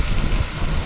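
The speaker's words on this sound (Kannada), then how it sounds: "ಸಿಕ್ಕಾಪಟ್ಟೆ ಮಳೆ." Heavy rain falling in Gundla forest in the Malnad region, a brief dense wash of steady pattering hiss with a low rumbling undertone.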